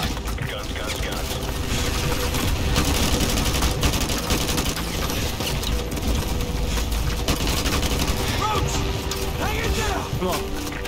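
Heavy bursts of aircraft gunfire in the Modern Warfare 2 campaign, rapid rattling fusillades and explosions running throughout over a noisy battle bed, with radio-style voices talking over the shooting.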